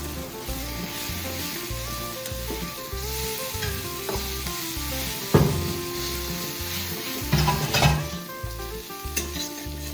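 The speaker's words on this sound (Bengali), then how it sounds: "শুকটি মাছগুলোকে দেখতে হবে, একটু ভালো করে ভাজতে হবে" Dried fish (shutki) fries in oil while a spatula scrapes and stirs it around the pan in a rhythmic pattern, the close, loud sizzle rising with louder clatters toward the end.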